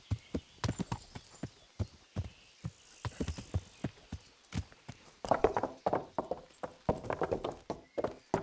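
Horse hooves clip-clop in a steady walking rhythm in the medieval game Kingdom Come: Deliverance, close and distinct, growing busier toward the end with a faint whinny possible.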